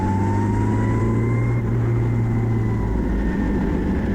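A historical Formula Ford race car on a circuit, its engine holding a loud, continuous drone with a slowly shifting pitch as it drives, heard close and alone without any talk.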